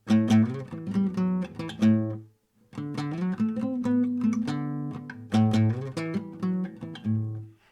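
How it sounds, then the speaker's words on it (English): A guitar plays a short melodic riff with notes gliding smoothly into one another, pausing briefly before repeating the phrase. "a friend of mine taught me how to slide on the guitar"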